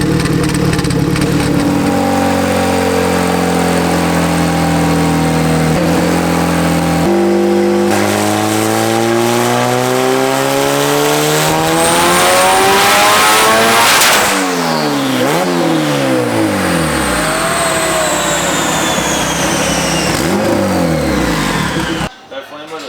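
Boosted stock Honda engine pulling hard through the gears, loud rising revs with gear-change dips, climbing to a high, strained pitch where it hits boost cut and falls away before cutting off abruptly.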